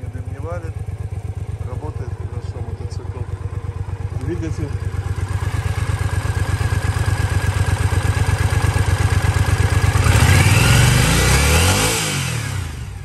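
A 2013 Triumph Speedmaster motorcycle engine runs steadily with a rapid low thumping, revving louder near the end before easing off slightly.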